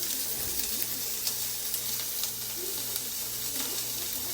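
Onion and green chilli frying in a pan for upma, a soft continuous sizzle with faint clinks, heard at low level.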